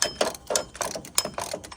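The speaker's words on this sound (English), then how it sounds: "As y'all can hear, we're getting clicks." A ratchet held under tension keeps slipping, giving a close, loud run of irregular sharp mechanical clicks, about a dozen in under two seconds, with no speech.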